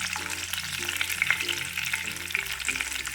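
Cashews and raisins are being sautéed in a pan, giving a soft, continuous frying hiss. It sits close but fairly quiet beneath steady background music, with no one speaking.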